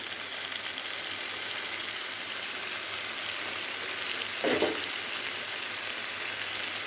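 Fish masala for a murrel fish curry bubbles and sizzles quietly in a pan, a soft, even hiss with one brief louder spatter midway and no voices.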